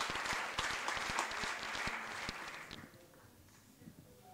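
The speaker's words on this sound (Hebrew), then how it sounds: "מגיע לך מחיאות כפיים" An audience applauds at a lifetime achievement award ceremony, dense clapping that stays full for a few seconds, then thins out and fades to scattered claps.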